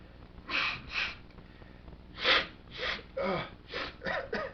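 A series of sharp nasal snorts and sniffs from a dust-irritated nose, close and fairly quiet, coming in irregular bursts with short pauses between them.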